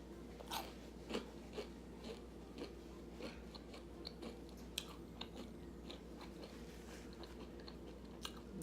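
Someone bites into and chews crunchy vegan pork pockets close to the microphone. Quiet, repeated crunches are followed by softer chewing, with no talking.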